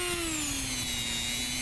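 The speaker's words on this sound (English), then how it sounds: "I'll do a complete hack job on this with this thin cutting blade on the Dremel" A Dremel rotary tool with a thin cutting blade whines steadily while cutting a replica of Fast Eddie Clarke's Motörhead Ace of Spades guitar, its pitch sagging slightly under load, loud and close throughout.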